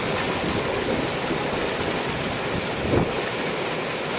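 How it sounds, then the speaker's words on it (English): Hot tub spa jets running on high during a winter water change, a loud, steady rushing and bubbling hiss that continues throughout with one or two brief splashes near the end. "Turn the jets on."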